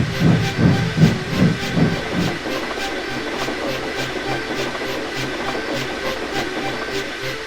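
Steam locomotive Gordon pulling away with an express, several heavy rhythmic chuffs with hissing steam, then settling into a steady rolling clickety-clack of carriages.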